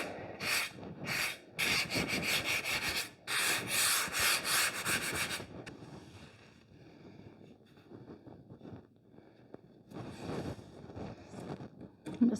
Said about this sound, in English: You don't want to sand too hard or you'll sand off your texture.